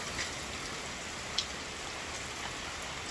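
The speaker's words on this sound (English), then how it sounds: "It's pouring. It's raining." Heavy rain pours onto a carport roof in a steady, even hiss of drops, with one faint sharp tap partway through and no voices.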